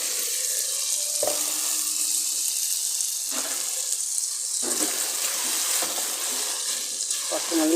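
Chicken curry ingredients fry in a pan with a constant, close hiss, and the spoon sweeps through them every second or so.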